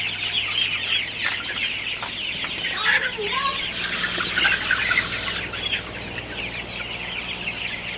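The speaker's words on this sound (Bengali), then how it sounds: "আমার সোনালি মুরগিগুলা পানি খাইতেছে" Sonali chickens drinking water in a poultry shed at midday give repeated soft clucks and occasional higher calls, a steady flock murmur heard close over a faint background hum.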